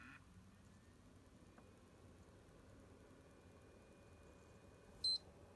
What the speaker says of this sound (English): wait till you hear the second beep